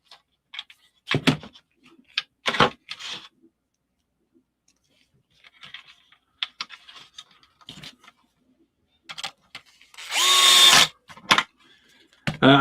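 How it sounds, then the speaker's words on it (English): A DeWalt drill set to clutch 8 drives screws while a Tamiya Lunchbox RC car kit is assembled. A brief loud whir comes near the end, and sparse clicks and taps of parts being handled fill the quiet between. "I'm using the DeWalt as per usual, setting 8 on the clutch."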